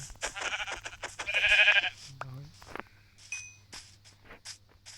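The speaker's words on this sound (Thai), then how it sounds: "เฮ้ยแกะ" Sheep in the Minecraft video game bleat several times in quick game-style calls, surrounded by blocky footsteps and a low background hum, with a brief ding near the end and a person talking around them.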